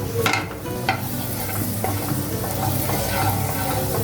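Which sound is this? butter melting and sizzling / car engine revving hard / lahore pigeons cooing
butter melting and sizzling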